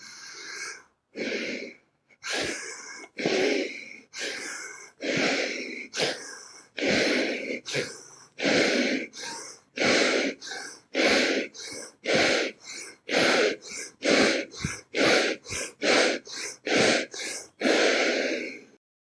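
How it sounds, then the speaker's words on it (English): Forceful rhythmic pranayama breathing, rapid in-and-out breaths repeated about twenty times in steady succession, close and loud with short pauses between, no talk. "You are going to breathe in and out as forcefully as comfortably you can, but without tension"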